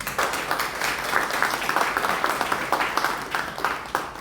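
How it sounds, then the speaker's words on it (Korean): An audience at a formal inauguration meeting of a New Zealand council claps for a chairman after his speech, a moderate crowd applause of steady overlapping claps that continues throughout. "멋진 비전을 제시하신 박상열 회장께 큰 박수 부탁드립니다."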